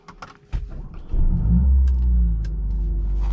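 A 2021 Mercedes-AMG CLA 45 Coupe engine fires up after a few clicks and settles into a deep, loud, steady rumble close by, with a slight swell in intensity partway through.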